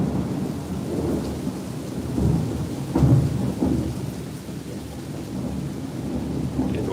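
Rumbling thunder grumbles through a rainstorm, with a heavier peal around the three-second mark over steady rain hiss, moderately loud and fairly distant.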